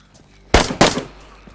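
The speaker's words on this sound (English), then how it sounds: "it's me shooting zombies" Two loud, close gunshots fire in quick succession at zombies in the DayZ survival game, each a sharp burst with a brief tail, over faint background ambience.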